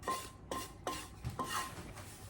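Cooked onion, garlic and parsley are mixed into boiled, mashed vegetables in a bowl for vegetarian meatballs: four or five close scraping, clinking strokes of a utensil against the bowl at a steady stroking rhythm, with no voices.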